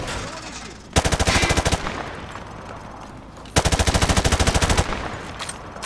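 Automatic gunfire at a firing range in Call of Duty Modern Warfare 2, two loud, rapid bursts of roughly a dozen shots each, separated by quieter ambient background noise.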